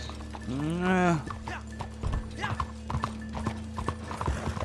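Horse hooves clip-clopping on the ground in Red Dead Redemption 2, a series of close, rhythmic knocks that follow a loud whinny at the start, with faint background sounds.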